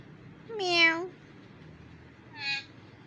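A pet talking parrot named Mithu imitates a cat's meow: two close, clear meows, the first long and drawn out, the second shorter and softer, against a quiet background.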